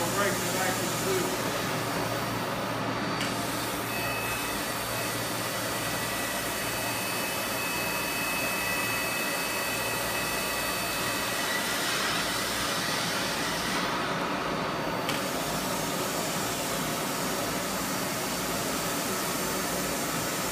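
A Vacuhand vacuum lifter running with a constant broadband hiss and whoosh that holds steady throughout, with brief shifts in tone.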